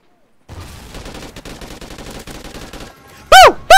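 Rapid video game gunfire from Call of Duty Ghosts, a dense crackling burst of shots lasting a few seconds, followed by a loud sweeping electronic effect at the end.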